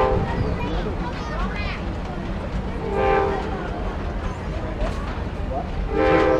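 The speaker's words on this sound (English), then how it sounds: "The Amtrak's coming in a lot quicker." An Amtrak passenger train rolls in with rumbling wheels and a few blasts of its horn at moderate distance, while people talk over the passing train.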